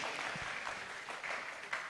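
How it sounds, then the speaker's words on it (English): Audience applause at an international education conference, a steady wash of many hands clapping at moderate level, continuing evenly for about two seconds with no voices over it. "let's applaud them again as I ask my question."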